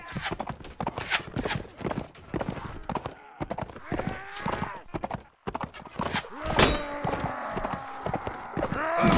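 Horses gallop through a Mount & Blade: Warband battle, with steady drumming hoofbeats close up mixed with thuds of hits and clashing combat noise, continuous and dense across the whole stretch.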